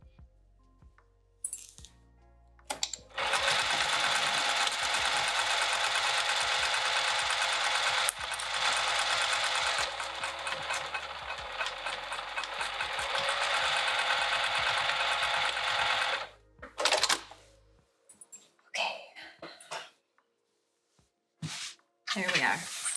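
A sewing machine stitches a bag with piping in one long, steady mechanical run of about thirteen seconds, close and loud, followed by a few short bursts and clicks as it stops.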